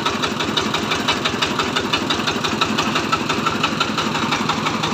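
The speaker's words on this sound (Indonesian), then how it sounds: "Penggeraknya mesin diesel." Diesel engine powering a rubber-tracked plantation machine with steel rollers and hydraulic drive on an oil palm estate, running steadily with a fast, even knocking pulse, close and loud, with no talk.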